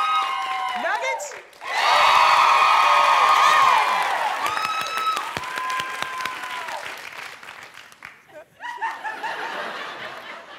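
An audience bursts into loud, sustained applause with cheering and some laughter at a contest show. The applause swells after a brief voice, peaks for a few seconds, then thins out as a voice cuts in over it.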